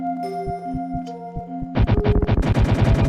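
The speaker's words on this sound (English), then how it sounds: "I'm using a high rate of fire weapon and that took a bit." A high rate-of-fire weapon in Super Metroid Phazon lets off a rapid burst of loud, punchy shots in a quick stuttering rhythm, starting abruptly after a moment of tonal game music and carrying on to the end.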